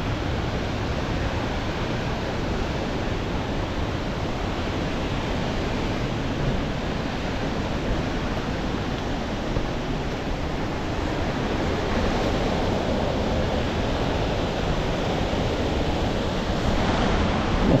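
A waterfall at the Honorato Ferreira cascade in Brazil rushes in a steady, broad roar that stays dense and constant throughout, with no voices present.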